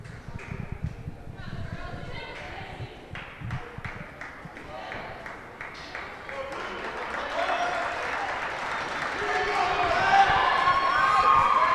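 Crowd at a girls' high school basketball game, Lyme Old Lyme against Haddam Killingworth, swelling into cheering and applause that builds toward the end, with sneaker squeaks and ball bounces early on.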